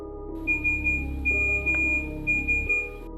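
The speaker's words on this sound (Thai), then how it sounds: "เสียงเรียกเข้าข้อความแบบเก่าของโนเกีย" Old Nokia SMS message ringtone playing alone, a steady high electronic tone pulsing in short beeps over a low hum, lasting about three seconds.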